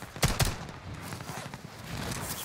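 Gunfire in the video game Call of Duty Warzone: a couple of sharp shots up front, then a fainter, busy spread of distant pops and rumble.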